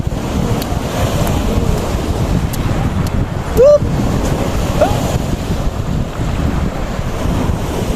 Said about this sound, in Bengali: বিশাল বড় নদী দেখেন ওইদিকে